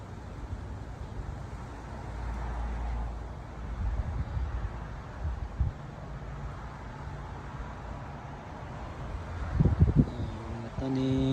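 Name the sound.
strong wind outdoors in Arizona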